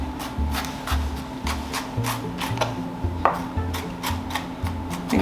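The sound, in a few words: knife chopping onion into small pieces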